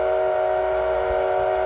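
A steam locomotive of the SL Paleo Express on the Chichibu Railway at Kumagaya Station gives a sustained, loud whistle that holds steady and close throughout.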